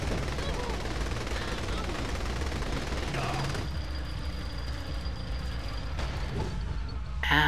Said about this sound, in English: Shoot him, guys!